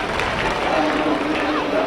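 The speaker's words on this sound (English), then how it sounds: "Gets mild applause." Mild applause and light clapping from a rugby league crowd at a 1996 Leeds v Halifax match after a successful goal kick, a steady wash of distant stadium noise with low murmuring for about two seconds.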